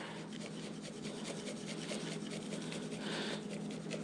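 Hands rubbing mustard onto St. Louis cut pork ribs, a close, soft, continuous scrubbing and smearing texture at low level.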